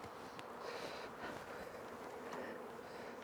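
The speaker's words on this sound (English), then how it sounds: "Nice amount of bees still in the super." Honey bees buzzing around an open hive super during an inspection, a soft continuous drone with faint rising and falling hums, fairly quiet and steady throughout.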